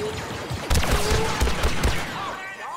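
Blaster gunfire in a Star Wars Battlefront II battle, a dense busy mix of sharp shots and impacts with game voices talking over it throughout.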